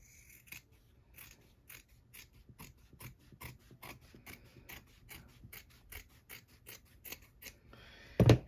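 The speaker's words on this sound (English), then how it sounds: "I am going to cut the fabric and turn the fabric" Scissors snip through fabric for a Halloween pumpkin project, a quiet close run of about fifteen rhythmic cuts, followed by a louder rustle of handled cloth at the end.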